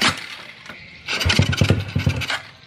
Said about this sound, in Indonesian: di starter sekali dua kali dia langsung hidup